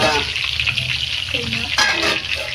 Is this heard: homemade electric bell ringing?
no